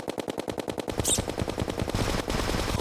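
The Megalodon gun in Terraria Calamity fires in a rapid, evenly spaced burst of sharp shots, loud and close, with a brief metallic effect partway through and a denser roar of fire at the end.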